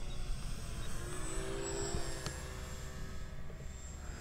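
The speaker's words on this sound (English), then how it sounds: "Beautiful flying plane." A Dynam T-28 Trojan RC plane on its maiden flight passes overhead, a steady electric propeller whine over constant outdoor wind noise, moderately faint and unbroken.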